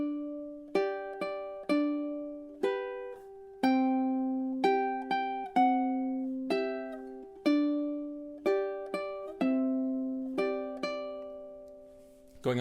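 Plucked ukulele notes pick out measures of Waltzing Matilda, each note struck cleanly and ringing briefly before the next, at an unhurried steady tempo played solo and close.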